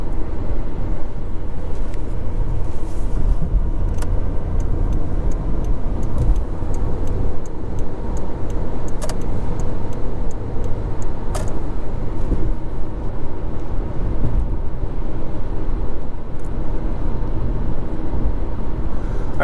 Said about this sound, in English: I'm driving Cindy's Passat today